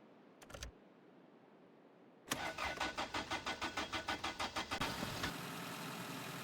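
An old car with its choke pulled starts up in the winter-set game My Winter Car: a brief click, a pause, then the starter cranks in a quick rhythmic chug before the engine catches and settles into a steady idle, close and loud.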